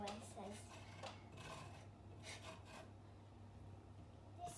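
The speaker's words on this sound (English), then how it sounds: "Next, grate the zest of 1 lemon." Lemon zest grated by hand against a grater, faint, irregular scraping strokes over a low, steady kitchen hum, with no talking.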